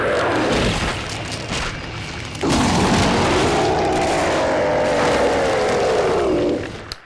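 A boss set on fire in Resident Evil 4, a loud roaring blast and whoosh of flame joined by a long wavering monstrous groan that fades out at the end.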